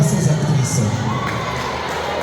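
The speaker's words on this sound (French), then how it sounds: "je vais demander à tous les spectateurs d'applaudir à ces actrices" Spectators at an interschool Miss Nyiragonga pageant cheering and shouting for the actresses, a loud, dense crowd roar with children's high shouts throughout.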